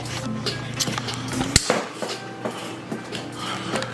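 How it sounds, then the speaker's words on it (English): Vegetables, broccoli among them, chopped on a cutting board during home cooking, heard as a run of irregular knife knocks with one sharp, loud strike in the middle, close up and with no talking. "So I'm almost done chopping up all the vegetables."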